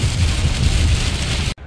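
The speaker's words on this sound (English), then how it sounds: "right now it is so loud in here with the rain" Heavy rain drums loudly on the roof of a parked car, a dense steady roar heard from inside that cuts off abruptly near the end.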